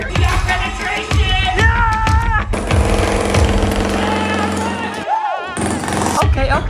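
A loud, fast, rattling hammering tears down a wall during a sneaker store build, with repeated hard impacts, a brief pause, and voices talking over it.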